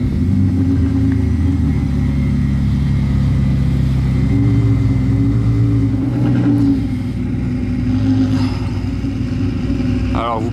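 A Ferrari SF90 XX Stradale supercar sends out a loud, continuous engine rumble that holds steady and close, with faint voices nearby.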